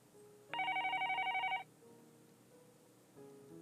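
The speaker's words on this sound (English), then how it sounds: "The phone on the desk rang, and the cop picked it up." A desk telephone in the Higurashi visual novel game gives one loud electronic trilling ring burst lasting about a second, over quiet background music.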